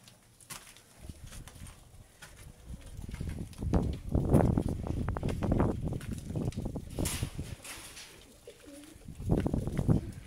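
Caged pigeons on a house rooftop give repeated soft, throaty coos in irregular bursts, close by. Faint rustling and background noise sit between the calls.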